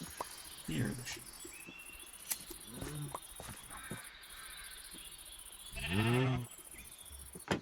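Sheep in the Minecraft video game bleat a few times, with a longer, louder bleat near the end, against a steady high insect-like chirping background and scattered soft game sounds.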